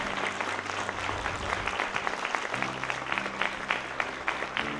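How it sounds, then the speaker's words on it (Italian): Sustained audience applause at a talk event, steady and fairly dense clapping from a crowd for about five seconds, with low tonal background sound underneath and no talk. "E davvero grazie di cuore a Daniel, facciamogli un bel applauso."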